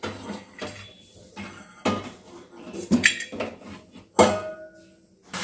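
Metal pot lid set over a pot of curry on the stove, heard as a few separate clanks and knocks of cookware at close range with pauses between them, no voices.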